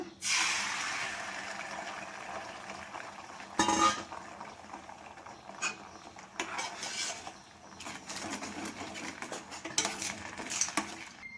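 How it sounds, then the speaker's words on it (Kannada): Eggs fry in oil in a pan for egg bhurji, a soft continuous sizzle under repeated clattering and scraping of a utensil against the pan, close up and lasting throughout with no voices. "ಮೊಟ್ಟೆ ಫ್ರೈ ಮಾಡ್ಕೊಳ್ಳೋಣ"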